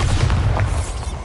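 A Bombarda blasting spell explodes in Hogwarts Legacy on PS5: a loud, dense, booming blast with a heavy low rumble that fills the whole moment.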